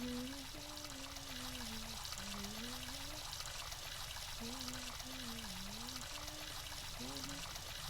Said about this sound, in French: Qu'est-ce que ça fait du bien de prendre une bonne douche